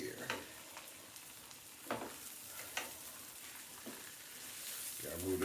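Slices of bologna frying in a hot pan give off a steady, close sizzle and crackle, with a few louder pops and scrapes as the pieces are moved around.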